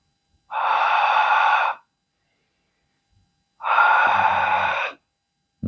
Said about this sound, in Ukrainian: нібито похекаєш на скло